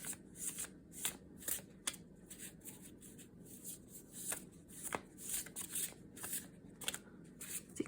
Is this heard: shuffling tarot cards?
yes